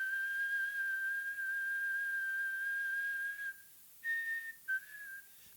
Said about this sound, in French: lorsque j'émettais ce sifflement, vous voyez, je reproduisais un petit peu le comportement du diapason